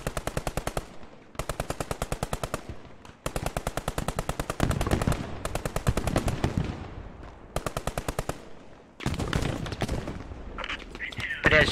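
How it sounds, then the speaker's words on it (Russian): Bursts of machine gun fire in the video game Post Scriptum, with long rapid rattling strings broken by short pauses, loud and close, and heavier shots and shouted voices mixed in toward the end. "Пулемётчик, куда стреляешь"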